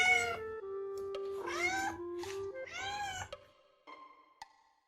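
A small tabby cat gives several clear, close meows, rising and falling in pitch, followed by a few fainter sounds.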